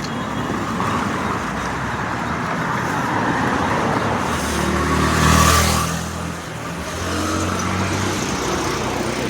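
Road traffic passes near Dadar station in Mumbai at midnight, a steady roadway rumble with one vehicle swelling louder as it goes by in the middle, then easing back to a continuous hum.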